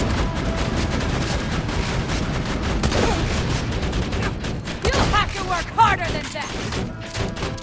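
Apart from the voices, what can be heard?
gunfire in the video game Borderlands 2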